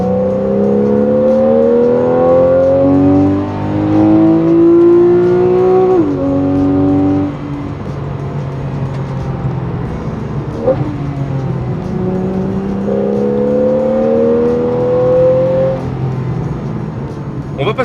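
A Porsche 911 Carrera 4S with the X51 power kit in sport mode, its engine revving and accelerating loudly through rising gear pulls with a short dip at a shift, then a gentler climb under a smooth mechanical whir.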